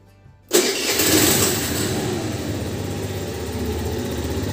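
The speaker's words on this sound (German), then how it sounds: "Mache jetzt mal Motor an" An engine cranks briefly and catches, then settles into a steady, rumbling idle close by.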